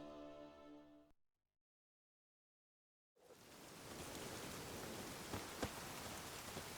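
After a tonal hum and a brief silence, steady video game rain from The Witcher 3: Wild Hunt starts and hisses evenly, with a couple of faint drips or taps near the end.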